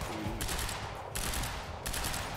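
Rapid gunfire in Quantum Break, three dense, loud bursts of automatic shots back to back with only brief gaps between them.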